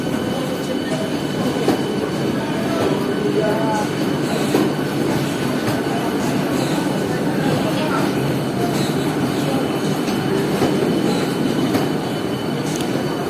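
A Sealdah–Ranaghat AC local train rumbles steadily into a platform with a continuous roar and rail clatter, mixed with platform voices and crowd noise.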